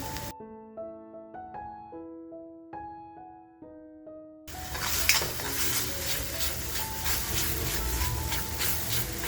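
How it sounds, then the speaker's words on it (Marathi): Spice masala for a Malvani Bombay duck curry frying in a pan, heard as a steady close sizzle with light stirring scrapes that starts about halfway through, after a stretch of soft plucked music. "मसाला ना आपला अगदी व्यवस्थित असा फ्राय झाला पाहिजे, याची काळजी आपल्याला घ्यायची."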